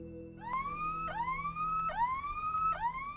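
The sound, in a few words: ambulance siren driving through rural village at night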